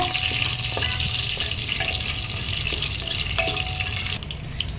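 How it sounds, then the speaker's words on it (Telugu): Whole spices crackle and fry in hot oil for a vegetable pulao, a steady dense sizzle with scattered small pops running throughout, close and fairly loud, with no voices. "వీటిని మంచిగా ఫ్రై చేయాలి అవి చిట్టపట్ట అనే వరకు ఫ్రై చేయాలి"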